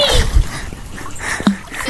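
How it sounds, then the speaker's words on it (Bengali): Water splashing as a person wades into a village pond, a few heavy splashes and sloshes near the start and midway, close by, with a voice talking faintly underneath. "এখন আমি পুকুরে নামবো।"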